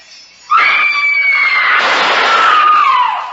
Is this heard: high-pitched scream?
yes